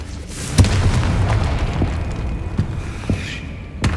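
A Confringo spell blast in the Hogwarts Legacy video game, several sharp booming bursts over a dense rumbling game ambience, with the loudest hits near the start and end.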